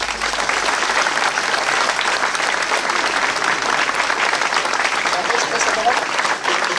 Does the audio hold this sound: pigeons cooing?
no